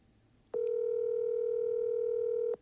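A steady telephone tone held for about two seconds, clean and loud against a quiet line, starting and stopping abruptly while an outgoing call waits to be answered.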